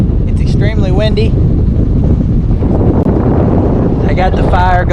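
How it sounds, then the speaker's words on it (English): Strong wind roars and buffets the microphone continuously outdoors, with someone talking over it at the start and end. "It's extremely windy."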